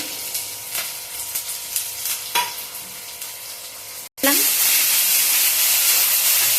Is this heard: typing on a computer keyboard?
no